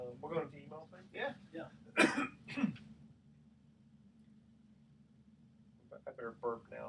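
On a radio show set, someone gives one harsh cough and a throat-clearing hack between stretches of nearby talking.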